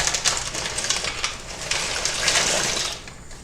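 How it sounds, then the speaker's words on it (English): Dry pasta tumbles into a saucepan of boiling water, a steady bubbling rush with a brief rattling pour, close and fairly loud, with no talking. "Okay, so I'm going to add my pasta, and then this is going to cook for about 10 minutes."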